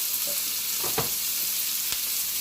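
Onions sauté in a pan with a steady, close hiss of frying, marked by a couple of brief scraping stirs, heard alone with no voices.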